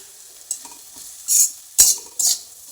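Fried bitter gourd slices with chili being stirred in a pan: a few distinct scraping strokes and one sharp clack of the utensil against the pan, separated by near silence, close and without any voices.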